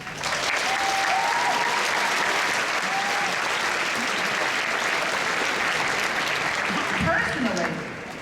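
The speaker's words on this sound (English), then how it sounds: "you all deserve a round of applause" Sustained applause from a graduation audience at Stuyvesant High School's senior graduation, a dense, steady wash of clapping that holds loud for about eight seconds before easing off at the end.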